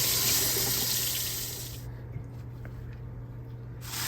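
Tap water runs steadily from a kitchen faucet while a steelhead trout is rinsed, a continuous broadband rush that eases slightly partway through, with no talking.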